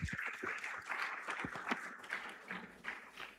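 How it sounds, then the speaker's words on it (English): A summit audience gives a brief, faint round of applause to welcome a panel moderator, scattered claps heard from a distance. "Please make her welcome with a round of applause."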